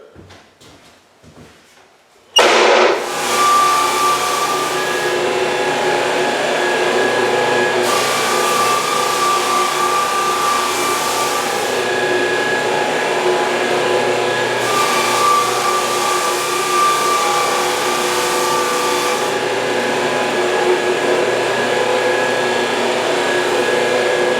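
A drum floor sander grinds across a wood floor, starting abruptly after a quiet lead-in and then running as a loud, steady machine roar with slight pulsing swells as the drum is worked along its path.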